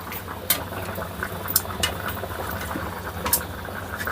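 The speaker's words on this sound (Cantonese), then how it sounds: "煲翻個水，將啲香料擺翻落去，咁啊等佢煲熟佢" Salted duck simmering in a pot of water with spices, giving a steady, close bubbling rumble with a few sharp pops and clicks throughout.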